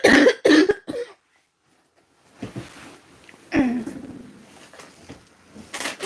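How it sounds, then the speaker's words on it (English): Several sharp, harsh coughs in a quick burst up close, then a pause, followed by a person talking with a hoarse, strained voice. "this cough does not want to stop"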